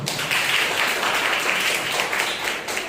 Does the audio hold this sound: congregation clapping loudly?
yes